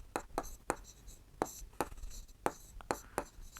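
A pen or chalk scratches out a written math solution on percentage of carbon, a string of quick sharp taps and short strokes in an uneven rhythm, close and quiet with no talking.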